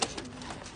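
A pigeon gives a short, close coo, one soft throaty call that fades quickly, heard on its own with no talking.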